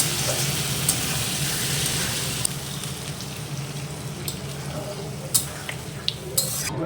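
Curry sizzles in a pan as water is poured in, giving a steady, fairly loud hiss and crackle broken by a few sharp pops and clinks, with faint voices in the background.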